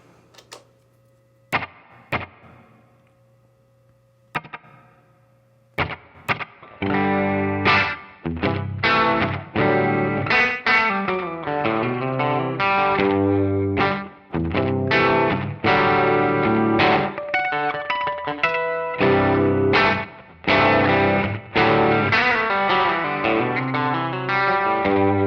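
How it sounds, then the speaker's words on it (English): Electric guitar through a Strymon Deco pedal plays chords and riffs with a quick slapback echo and a warbling, chorus-like wobble, after a few sparse plucks and clicks at the start. "a pretty prominent slapback with a bunch of wobble on it"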